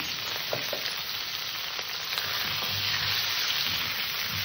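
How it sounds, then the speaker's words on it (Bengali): Pumpkin, okra and potato curry seasoned with salt and turmeric sizzles steadily in a pan, a continuous close frying hiss with faint scraping from stirring, no voices. "তরকারিটাকে একটু ভালো করে কষে নেব।"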